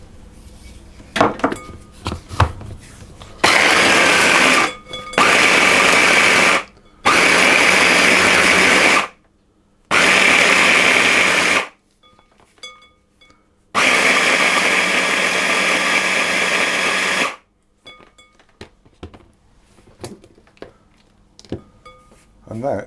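A blender or food processor mixes oats, quinoa and seeds for mini oat and multiseed bites, running in about five loud, roaring pulses of different lengths, with short quiet pauses between them.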